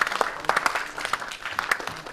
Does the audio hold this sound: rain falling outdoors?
no